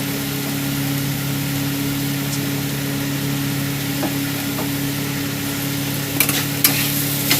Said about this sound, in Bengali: ভালো করে নাড়িয়ে দেবো আমি।